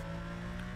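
Porsche Carrera engine in Need for Speed: Most Wanted (2005) on Xbox 360, a faint, steady droning hum heard briefly and alone.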